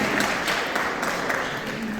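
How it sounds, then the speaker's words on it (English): An audience claps steadily and evenly for a lecturer at the ISKCON Toronto temple, a dense, continuous round of applause filling the room with no gaps. "So big round of applause for Kaviraj."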